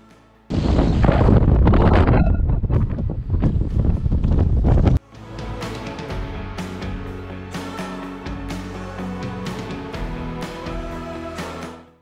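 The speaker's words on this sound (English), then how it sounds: "the wind was crazy" Strong wind buffets the microphone on the exposed summit of Ben Klibreck, a Scottish mountain, roaring loudly for several seconds before giving way to a softer, steadier rush.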